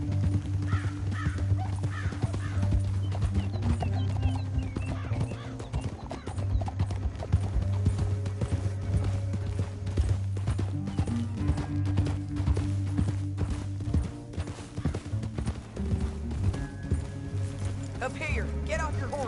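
Horses gallop in a PS4 video game, a steady rapid clip-clop of hooves with occasional whinnies under an ongoing orchestral music bed, and a voice speaks over it.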